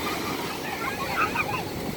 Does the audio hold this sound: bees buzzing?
no